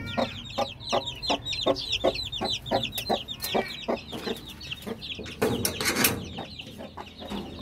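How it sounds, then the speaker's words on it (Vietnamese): A flock of 20-day-old chicks on a farm clucks and peeps steadily and close by, a dense run of short repeated calls with no talk over it. "Đấy, đây là đàn gà 20 ngày."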